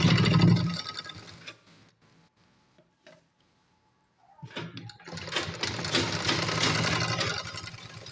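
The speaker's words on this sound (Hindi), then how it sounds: "यहाँ हम सिलाई कच्ची लगाएंगे क्योंकि यहाँ तुरपाई होगी" A sewing machine stitches lace onto the side slit of a kameez, running loudly at the start, falling to near silence with small clicks in the middle, then whirring again steadily through the final seconds.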